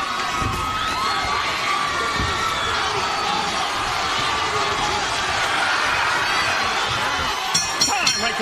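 A sold-out boxing crowd in Indio, California roars and cheers steadily throughout, a dense wash of shouting voices that swells briefly near the end.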